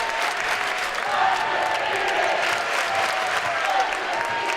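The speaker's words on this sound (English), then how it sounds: "Chargers fans coming to their feet, student section cheering their undefeated chant" Basketball fans at a college conference semifinal game applaud and cheer steadily, a dense crowd roar of clapping and voices filling the arena at constant loudness.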